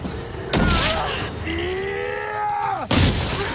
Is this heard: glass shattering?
yes